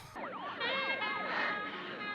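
Police sirens wail in a film soundtrack set in New York, several overlapping sweeping tones rising and falling together, loud and continuous throughout with no voices.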